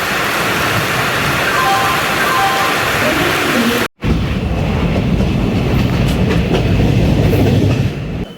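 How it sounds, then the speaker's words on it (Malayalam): Train at Mangalore Central railway station in heavy rain, a steady loud rumble of rolling wagons and rain with a brief cut partway through, the dense noise continuing until it eases near the end. "ഇതാ നമുക്ക് പോകേണ്ട ട്രെയിന് പരശു."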